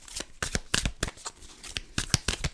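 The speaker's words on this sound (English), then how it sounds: "Tell me when to stop shuffling." A deck of tarot cards shuffled by hand, a close series of crisp riffling bursts in an uneven rhythm, with short pauses between them and no talking.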